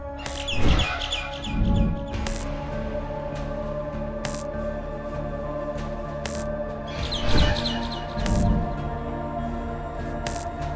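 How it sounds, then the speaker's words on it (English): A bird in the Garten of Banban 6 video game gives repeated chirping, tweeting calls as it dives, in two clear bursts against a steady electronic hum, with sharp clicks scattered between. "Get the bird to dive one more time."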